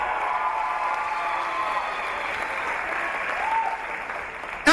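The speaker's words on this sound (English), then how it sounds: "Round of applause for these 2 fighters" A fight crowd applauds two fighters after a five-round bout, a continuous wash of clapping heard from a distance with faint voices mixed in, ending in an abrupt sharp noise.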